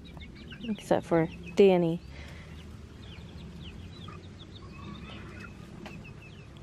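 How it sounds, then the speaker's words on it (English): Backyard chickens cluck and a rooster gives short crowing calls in a quick burst, up close and loud. Faint bird chatter continues afterward, and a person speaks briefly. "Who is doing cock-a-doodle-doo?"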